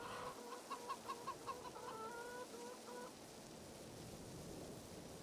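Chickens in Farming Simulator 22 cluck in a short series of close, repeated calls, followed by a steady wash of rain or ambient game noise.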